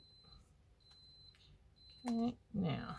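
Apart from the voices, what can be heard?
steam iron beeping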